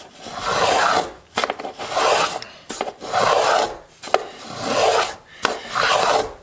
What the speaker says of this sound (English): You just keep carving until you're happy